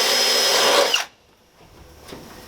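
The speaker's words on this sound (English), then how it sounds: "take your 25/64 bit and ream that hole out" A power drill with a 25/64 bit reams out an OEM hole in the metal body of a Sprinter 170 van, giving a loud, close whine that cuts off sharply after about a second, then near quiet with a faint click.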